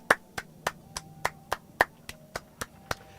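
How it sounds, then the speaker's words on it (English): Slow, scattered claps, about a dozen sharp hits at a fairly steady pace, fairly faint with nothing else over them. "And everyone claps."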